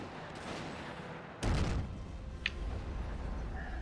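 Volksgrenadier infantry firing on a British 17-pounder anti-tank gun in Company of Heroes, a WWII strategy game: a sudden loud burst of gunfire, then scattered shots and a sharp crack over a steady battle din.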